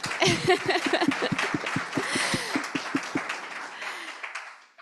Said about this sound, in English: Yes, clap, clap, clap, clap, clap.